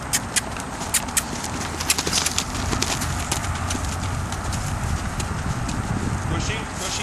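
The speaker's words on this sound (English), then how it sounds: "Let's see if we can get a little bit of a canter." Horse hoofbeats at a canter during a ride, a steady rhythmic clip-clop close by over a continuous rumbling ground noise, with a voice calling out over it.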